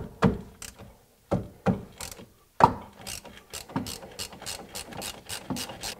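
Ratchet wrench loosening the bottom brake caliper bolt on a 2002-2007 Jeep Liberty, close clicking pawl bursts: a few separate sharp strokes, then a faster run of repeated ratcheting clicks.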